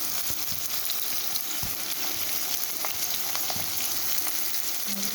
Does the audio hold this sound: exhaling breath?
no